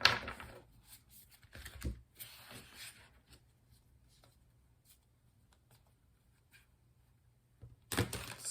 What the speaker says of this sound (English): So let's continue by doing some shuffling so we can pull 6 tarot cards for the month.